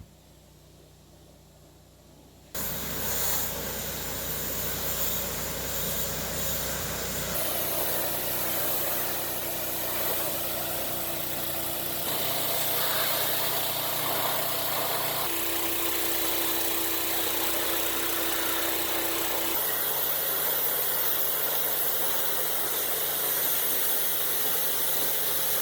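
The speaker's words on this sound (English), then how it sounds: "Fire up the pressure washer." A pressure washer starts up and runs continuously at a steady, loud drone, with its pitch shifting a few times as the spray changes, beside a Polaris RZR being worked on outdoors.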